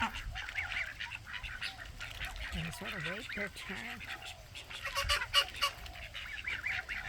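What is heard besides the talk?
ducks and geese honking at breakfast feeding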